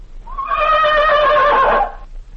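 A horse whinnies loudly and close, one long, full neigh that rises and shakes for about two seconds before fading, with no voices over it.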